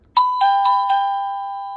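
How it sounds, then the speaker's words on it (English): An Avantek wireless doorbell chime rings out loud and close in a quiet room, four quick bell-like tones striking in succession and then fading into a long, ringing decay. "So that is a very loud chime"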